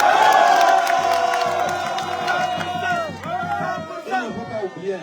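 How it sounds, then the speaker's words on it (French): Crowd at a nighttime political rally in Mokolo, Cameroon cheering and chanting loudly, dense and close at first, then thinning into scattered shouts and whoops with some talking mixed in. "Applaudissez pour nous."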